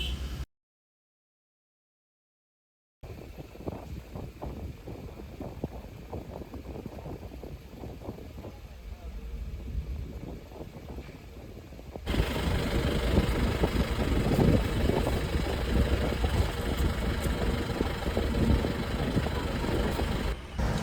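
Vehicles roll off a ferry onto the shore at Chilika Lake, engines idling and rumbling at moderate distance, growing louder and denser after a brief silence, with faint voices in the background.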